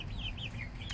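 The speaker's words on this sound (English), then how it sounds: "That is a rooster." Soft, high clucking chirps from a nearby six-week-old Americana rooster, brief and repeated, over a low rumbling background.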